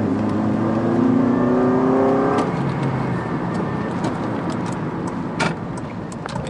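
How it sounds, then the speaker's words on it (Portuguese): A Honda Civic Si driving and accelerating, its engine tone rising steadily for a couple of seconds before easing into a quieter cruise with road noise and a few light clicks and rattles inside the cabin. "É bom demais andar nesse carro."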